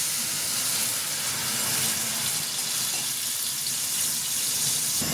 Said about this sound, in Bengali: এখন সামান্য একটু পানি দিয়ে দেবো যাতে পেঁয়াজগুলো পুড়ে না যায়